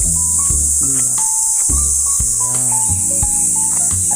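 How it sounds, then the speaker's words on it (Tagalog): A constant high, shrill chirring of crickets fills the background, with low tonal sounds shifting underneath, loud and unbroken. "Mga kuliglig lang ang mga marinig dito."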